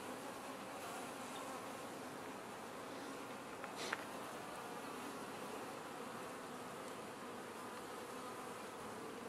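A small shrinking bee swarm drones in a steady, faint, continuous buzz, with one individual insect passing close for a moment partway through.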